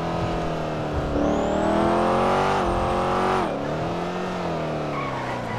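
A custom widebody C8 Corvette in GTA 5 roars loudly at high revs, its engine tone climbing and dipping with tire squeal layered over the steady, dense drone.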